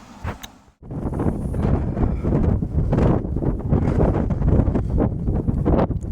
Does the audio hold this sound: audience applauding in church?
no